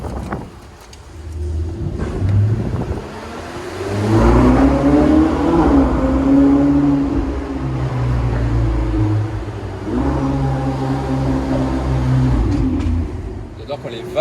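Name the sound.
Ferrari 488 Spider engine revving, exhaust valves opening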